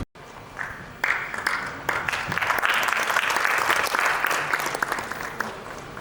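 Sustained, enthusiastic audience applause fills the room at an awards ceremony, a thick continuous patter of many hands that swells after the first second and holds steady to the end.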